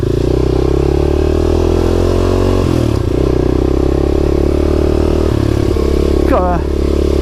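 Motorcycle fitted with a Delkevic exhaust, baffles in, passing on autumn country lanes: a steady loud engine drone with gear shifts and a brief rev rising toward the end.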